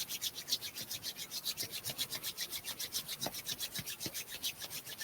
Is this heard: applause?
no